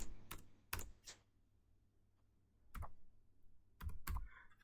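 Code typed on a computer keyboard during a C++ array tutorial: bursts of crisp key clicks in short clusters, close and fairly quiet, with pauses between runs and no talk.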